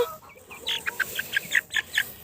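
Young chickens peep in a quick series of high, thin chirps, about a dozen short calls in a row, close and fairly clear over a quiet farmyard background.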